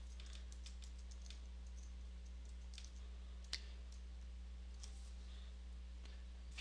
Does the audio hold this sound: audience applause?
no